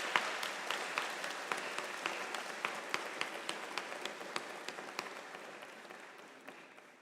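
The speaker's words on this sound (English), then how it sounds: "Please join me in applauding these outstanding partners" An audience at a community college nurses pinning ceremony claps steadily, a moderately sized crowd whose individual claps stand out, fairly distant and gradually fading toward the end.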